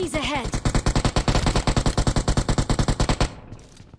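A rapid, loud burst of video game automatic gunfire rattles in an even rhythm for about three seconds, then cuts off. A short voiced exclamation is heard at the start.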